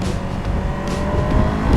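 A Honda CBR 500R motorcycle accelerating as the throttle is opened, a loud rising engine note with the rev climb building toward the end, close and continuous.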